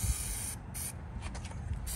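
Short bursts of hissing adhesive spray from a can, a few weak pressurized squirts with brief pauses between, close and fairly quiet, while fitting a headliner in a 1985 Cutlass Salon.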